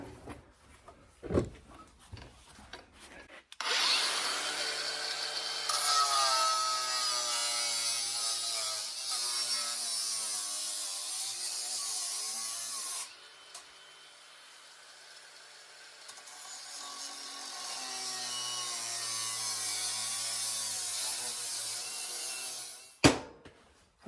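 Harsh, sustained grinding of a power tool cutting the metal frame horn of a 1972 VW Super Beetle, starting after a few quiet seconds, dipping midway and rising again, close and alone, ending with a sharp knock.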